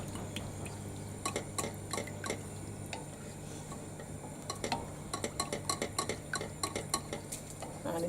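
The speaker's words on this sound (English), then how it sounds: "to get a smooth paste, you need to ensure that you're mixing." Sauce paste stirred in a pan on the heat for a chicken pasta bake, with quiet scraping and repeated light clicks of a utensil against the pan over a low background hum, growing more rhythmic toward the end.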